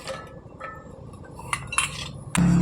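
Chopped onions are tipped into a metal pan while making chattambade, giving light clinks and scrapes of utensils against cookware, ending in a louder burst of sizzling as they land.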